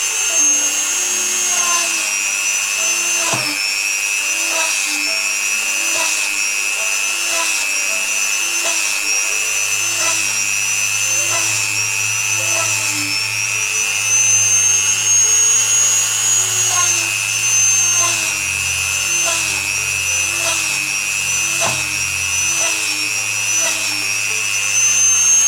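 A small Dremel rotary tool drills holes in fibre laminate, a steady high-pitched whine that holds throughout with slight pitch wavers and light scraping underneath.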